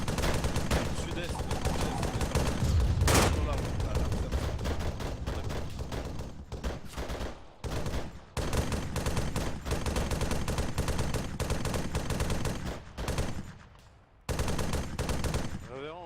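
Sustained gunfire in the military game Arma 3 during a co-op operation: dense, loud bursts and single shots continue almost without a break, with brief lulls, near and far weapons overlapping, and voices faintly underneath.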